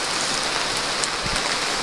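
Heavy rain pours down in a steady, dense hiss of drops striking surfaces, continuous and fairly loud with no voices.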